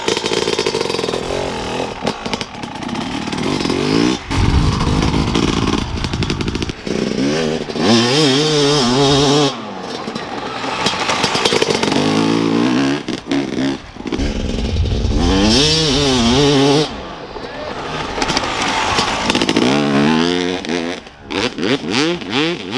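Motocross motorcycle accelerating through a flat corner, its engine revving hard in repeated on-off bursts with rising and falling pitch, loud and close, with brief drops between throttle pulls.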